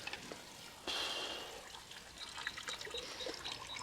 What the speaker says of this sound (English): you should see excess water is now coming out of here